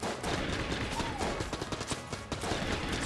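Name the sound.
explosions in the video game Enter the Gungeon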